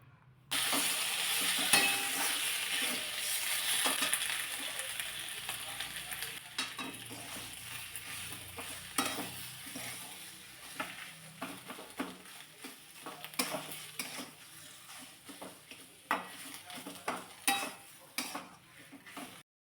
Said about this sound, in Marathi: मंद आचेवरती चांगलं हे मिक्स करून घेतलेलं आहे